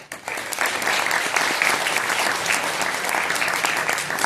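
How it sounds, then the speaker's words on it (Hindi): Sustained applause from an audience at a birthday-anniversary speech event in Sevagram, Wardha, Maharashtra, steady and dense clapping that fills the whole stretch without a break. "एक बार पुनः जोरदार तालियों के साथ लय में।"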